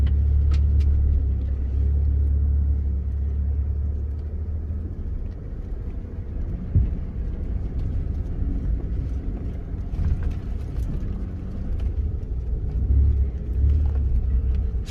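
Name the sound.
stock Ford F-150 truck driving slowly off-road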